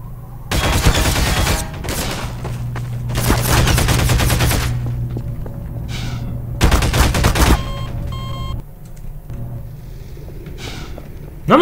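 Machine gun fire in the video game Half-Life 2: Episode One comes as several loud, rapid bursts of automatic shots, each lasting one to two seconds, with short quiet gaps and faint beeps between them.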